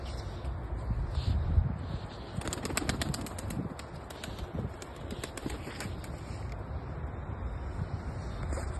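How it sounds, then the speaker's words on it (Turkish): Soft cooing birds in a backyard coop with bursts of fluttering wings and a few sharp clattering taps, over a steady noisy background. "Bunlar kuşlar arkadaşlar."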